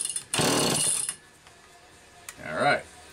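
A flooded chainsaw engine with a Walbro carburetor tries to start: two short bursts of rough sputtering, each about a second long, separated by a quiet gap.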